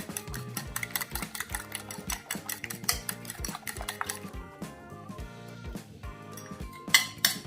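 A utensil stirs a tart filling of smoked salmon, leeks, nutmeg and liquid cream in a bowl, giving repeated rhythmic scraping and clinking taps against the dish, fairly close and moderately quiet, with no talking.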